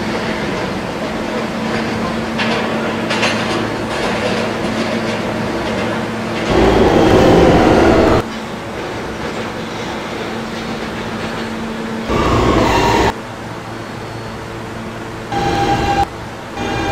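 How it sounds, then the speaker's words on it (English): New York subway B train at 68th Street, a steady hum of traction and ventilation with bursts of louder rushing noise and a couple of short electronic tones, fairly loud and close, with no speech. "This is a Potatoburg-bound B train."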